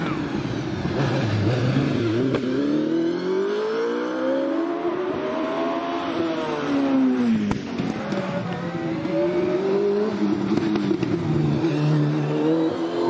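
OMS hillclimb race car with a 2.8 litre V8 TKD engine at Prescott, screaming loudly and continuously as it revs up and down through gear changes, close and steady for the whole run.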